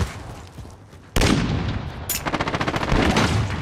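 Gunfire in Call of Duty: Modern Warfare, a loud burst cutting in abruptly and carrying on as rapid automatic shots with a sharp crack partway, close and dominant, no talk.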